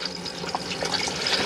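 Water rushes and gurgles as a motorhome cassette toilet is flushed, a short, steady splashing flow close by.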